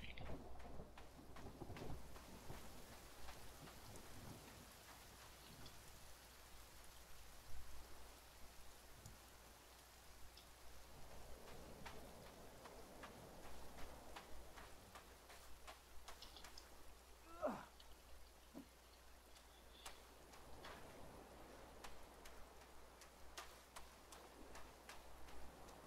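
Faint rain patters steadily in the survival video game The Forest, a soft continuous hiss with scattered drops ticking on surfaces and no talking.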